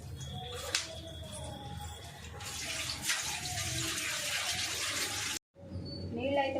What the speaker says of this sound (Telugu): నీళ్ళు అయితే మరిగినాయండి